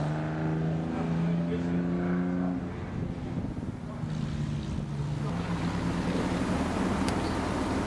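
A historic race car drives on the Pheasant Wood racetrack during an all-historic track day, its engine droning steadily nearby with shifting pitch as someone talks over it.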